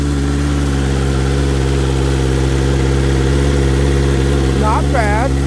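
BMW S 1000 RR motorcycle with stock exhaust idling, a loud, steady low engine hum that stays even throughout, with a voice briefly speaking near the end.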